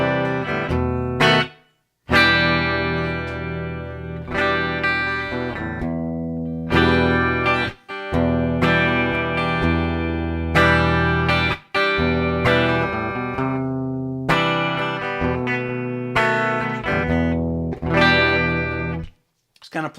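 An electric guitar run through a Line 6 HD500 with no amp, shaped by EQ, light reverb and compression to mimic an acoustic, strums and picks bright chords and single notes in phrases separated by short pauses.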